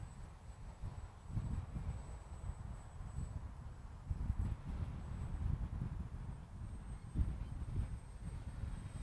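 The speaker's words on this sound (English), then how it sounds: "Big gust of wind, straight in my face." Windy outdoor gusts buffet the microphone, heavy low rumbling bursts that swell and ease in irregular waves, with a faint steady high whine running across the clip.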